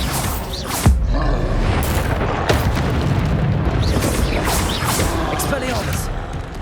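Bombarda spell blasts in Hogwarts Legacy go off as several loud booming explosions with crashing impacts, spaced irregularly through a dense, noisy battle, with voices shouting over them.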